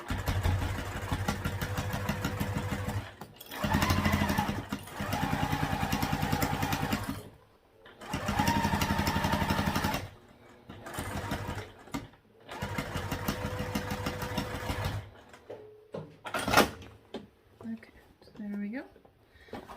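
A sewing machine runs in several long bursts while stitching a shallow 1/8-inch seam allowance on a crossbody bag, each run steady and close, with pauses and quieter handling and talk between runs.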